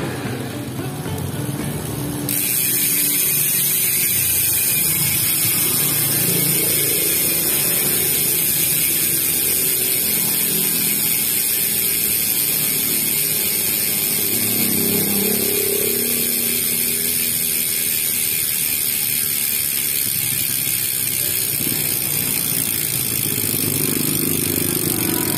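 An upgraded XLR8 bicycle hub ratchets loudly and continuously as the wheel spins, a rapid, buzzing stream of pawl clicks held close for a long stretch after a brief quieter start.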